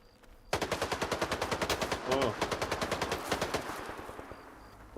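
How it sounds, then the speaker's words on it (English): Rapid bursts of automatic gunfire from the shooter game STALKER, loud and close, firing in a fast steady rhythm for several seconds before tapering into a ringing tail. "Well, he is shooting."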